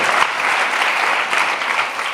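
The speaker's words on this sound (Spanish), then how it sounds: "Si va a aplaudir al Rey, dele con ganas, por favor." A church congregation applauds continuously during a Spanish-language sermon, a dense, steady clapping texture from a large crowd that holds at an even level throughout with no talk over it.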